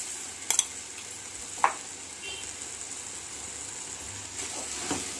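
Coriander, mint and salt stirred into a gravy in a pan: a soft background sizzle with a few sharp spoon clinks and scrapes against the pan, quiet and close.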